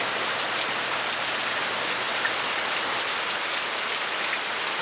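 Steady, dense hiss of rain falling and pattering on surfaces, close and continuous for the whole stretch, with no voices or other distinct sounds.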